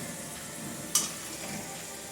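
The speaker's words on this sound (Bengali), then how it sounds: "দুটো সাইডই ভালো করে ভাজতে হবে।" Potato pakoras frying in hot oil make a steady, close sizzling hiss with one brief sharp pop partway through.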